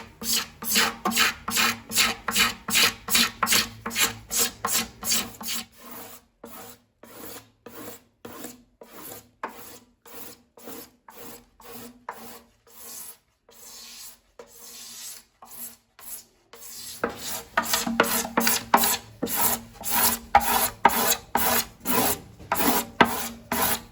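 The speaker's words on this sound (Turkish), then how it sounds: "kaba tesviyesini sistireyle yapıyorum ben" During saz making, a cabinet scraper rough-levels wood with steady, rhythmic rasping strokes, close and continuous. The strokes are louder and faster at the beginning and end, and lighter and sparser in the middle.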